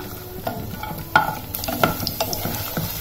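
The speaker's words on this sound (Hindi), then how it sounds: "ये हमारी बड़ी फ्राई हो गई है" Badiyan (sun-dried lentil dumplings) being stirred and fried in hot oil in a pan, a steady close sizzle broken by a few scraping knocks of the spoon.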